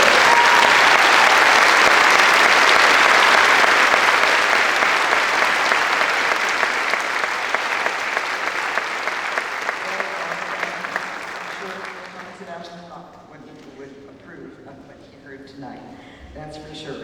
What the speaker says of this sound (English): and let us applaud you one more time.